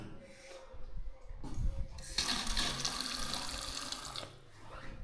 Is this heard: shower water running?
yes